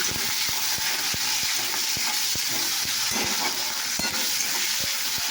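Salted tomato frying in a pan: a dense, steady sizzle with a regular series of sharp spatula taps and scrapes knocking against the pan, close and loud, no talking.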